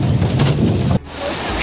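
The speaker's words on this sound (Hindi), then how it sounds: "बारिश हो रही है बहुत ज़ोरदार, झमाझम जिसे कहते हैं।" Heavy monsoon-style downpour at Shivkhori cave pours steadily and loudly with dense hiss, a dull rumble underneath, and a brief dropout before the rain noise resumes slightly thinner; no voices.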